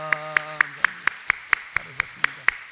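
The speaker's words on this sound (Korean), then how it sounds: "박수로 환영하겠습니다." A Korean church congregation claps to welcome newcomers, sharp, evenly spaced claps in a quick steady rhythm, about a dozen beats, with a voice speaking faintly underneath at the start.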